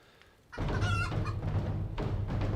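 A chicken in the farming game Mechanica clucks loudly and repeatedly, a burst of close fowl calls that starts abruptly after a short quiet lead-in and continues to the end.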